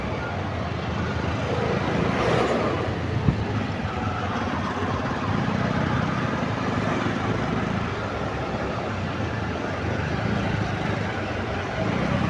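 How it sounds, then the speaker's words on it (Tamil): Riding a scooter through heavy road traffic with lorries in Sri Lanka produces a continuous, loud roar of engines, tyres and wind that stays steady for the whole stretch, with no clear breaks. "என்ன இவ்வளோ டிராஃபிக்காக இருக்குது? திருவோணமலையா இல்லைன்னா கொழும்பா இவ்வளோ வாகனம்?"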